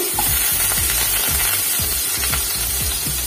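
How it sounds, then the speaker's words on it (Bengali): Potatoes, cut and washed, frying in hot oil in a home kitchen, giving a steady close sizzle throughout with scraping and stirring knocks from a utensil in the pan. "তো তেলটা গরম হয়ে গেছে, এবার আমি আলুগুলি ভেজে নেবো।"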